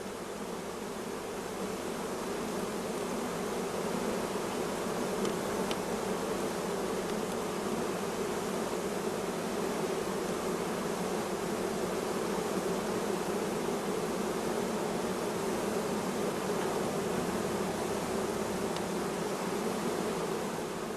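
Honeybees crowd over brood frames during nucleus colony making, a steady dense buzzing drone that holds evenly throughout without pause, close and moderately loud.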